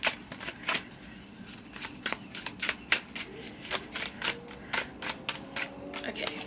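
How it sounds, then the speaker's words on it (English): A Haunted House Tarot deck is shuffled by hand in a steady run of crisp, close papery riffles and card slaps, repeated bursts over a quiet low background murmur. "we're going to use the Haunted House Tarot deck, and we're going to shuffle that"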